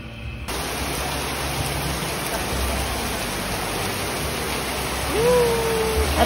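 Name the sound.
heavy rain pouring down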